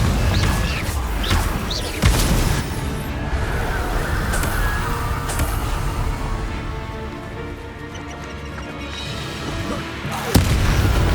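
Confringo blasting spell explosions in the Hogwarts Legacy video game land as heavy booms over continuous battle noise, with a sharp blast near the start and another toward the end.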